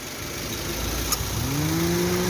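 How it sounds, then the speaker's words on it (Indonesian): A Toyota Avanza G with about 30,000 km on it runs steadily at idle, a close, even mechanical hum with a single faint tick partway through and a rising tone coming in near the end. "Ini posisi mesin nyala teman-teman ya."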